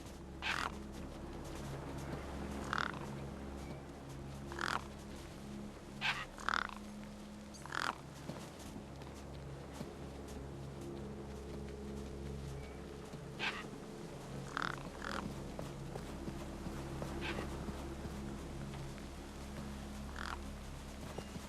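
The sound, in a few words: gang birds near a corpse in Beyond a Steel Sky video game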